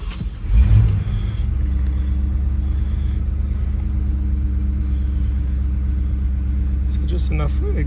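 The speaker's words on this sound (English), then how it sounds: "Just enough exhaust where you can hear it." A green 1975 Chevy K5 Blazer idles with a steady, deep low rumble from its engine and mild exhaust, close and loud, after a short burst of revving at the start.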